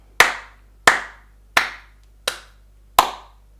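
Five sharp, separate claps ring out at an uneven pace, crisp and close, with short decays and nothing else in between, as people applaud police walking out.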